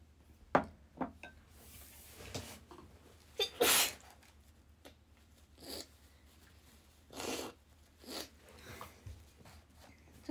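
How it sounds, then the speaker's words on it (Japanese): A sharp sneeze from a congested young woman bursts out, followed by a few scattered sniffs and short noisy breaths in an otherwise quiet room. "またくしゃみ出そう。"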